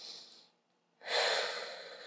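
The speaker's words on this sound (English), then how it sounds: "Deep breaths through these." A person stretching takes a deep breath: a soft inhale fades to a pause, then a longer, louder exhale rushes out, close and alone.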